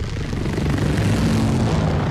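Dragonfly helicopter aircraft from the film Dune: Part Two, heard as a steady, loud, rumbling engine drone with a dense low-frequency roar and no voices.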